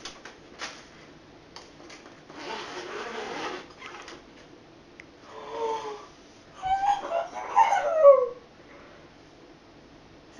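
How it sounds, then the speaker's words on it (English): An Italian Greyhound puppy whimpers from inside a box, its high thin cries rising in a short cluster near the end, close by and fairly loud, with muffled rustling of the box earlier. "There's a dog in here."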